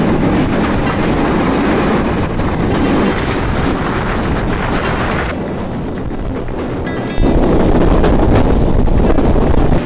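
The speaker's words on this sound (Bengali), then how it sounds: "এই বৃষ্টির মধ্য দিয়ে আমাদের ট্রেন ছুটে চলছে।" The intercity Kopotakkho Express, running from Khulna to Rajshahi, rumbles along in the rain with a steady, loud roar of wheels and wind that dips briefly midway and then swells again.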